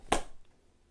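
A single sharp hand clap, made standing in a loose putting stance with the arms hanging down during golf putting instruction; it sounds close and alone, then fades into quiet.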